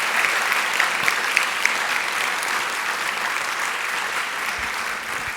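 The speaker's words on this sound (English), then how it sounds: "So let's give them another round of applause." At a school board meeting's recognition awards, the audience gives classified employees a round of applause, with dense, continuous clapping that stays loud and even from start to finish.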